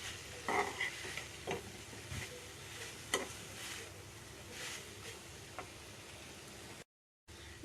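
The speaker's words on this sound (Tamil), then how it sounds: "காலிஃப்ளவர் போட்டதுக்கப்புறம் இதை வந்துட்டு நல்லா மிக்ஸ் பண்ணி விட்டுடலாம்." Fried cauliflower being stirred into Gobi Manchurian sauce in a pan, with soft scraping and sticky shuffling in short irregular bursts over a faint sizzle, close by and with no talking.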